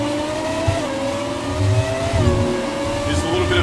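F1 2017 race car engine in the video game, a high, whining engine note climbing and dropping with gear changes, loud and continuous with a low rumble underneath.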